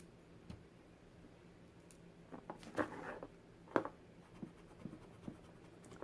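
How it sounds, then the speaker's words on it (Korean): Erasable ballpoint pen ink from AliExpress is rubbed off paper in a few short, scratchy strokes and clicks, faint and close, with quiet pauses between rubs. "이제 한번 지워 보겠습니다."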